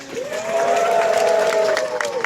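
Men and boys in an audience at a safari park bird show let out a sustained cheer for a military-themed macaw, a loud, continuous crowd shout rising and holding for about two seconds.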